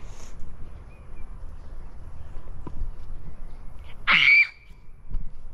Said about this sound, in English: I think it was that bird